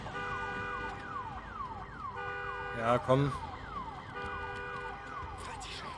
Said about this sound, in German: machen wir jetzt hier auch ganz schnell wieder die Alarmanlage aus